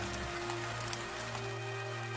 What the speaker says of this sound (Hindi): कड़कती बिजली के साथ साथ मूसलाधार बारिश भी शुरू हो गई